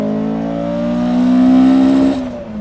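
A car engine revs hard up toward the redline, its pitch climbing steadily for about two seconds before the note drops sharply as the revs fall away; loud and close, with no talk.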